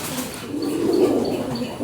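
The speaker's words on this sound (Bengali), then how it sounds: "একদম পুরাতন ন্যাশনালের পায়রা।" Pigeons in a loft where pigeons are kept for sale coo softly, a low murmuring call swelling in the middle and heard close by without talk.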